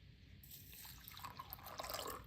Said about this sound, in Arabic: وكتضيفي لها ماء اللي يكون مغلى